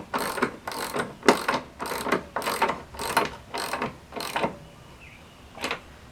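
A ratchet tightening a part during assembly, with about eight loud, evenly spaced ratcheting bursts close by, then a pause and one last burst.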